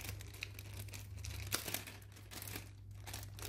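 A plastic bag crinkles and rustles steadily as someone rummages through it, fairly quiet and close, with a few sharper crunches and no talking.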